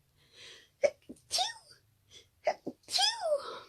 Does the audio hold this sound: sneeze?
yes